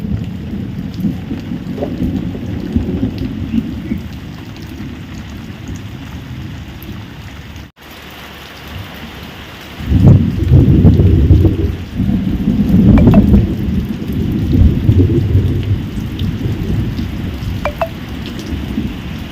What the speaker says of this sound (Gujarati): ધીમો ધીમો ઝરમર ઝરમર વરસાદ ચાલુ છે